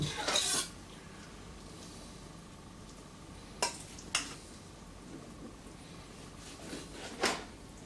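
Knife cutting pieces of stuffed Rex du Poitou rabbit on a board, a few sharp separate clicks and scrapes spaced over several seconds against a steady low kitchen hiss, close and quiet.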